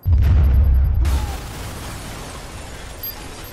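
Grenade blast in the video game Watch Dogs: a loud, deep boom opens the moment, then fades into a long rumbling hiss of debris and noise.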